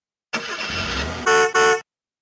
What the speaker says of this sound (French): Oh, un embouteillage.